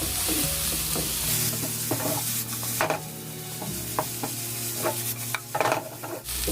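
Carrots stir-fried with a teaspoon of salt in a pan, a constant bright sizzle with repeated scraping and clacking of a spatula stirring through the slices.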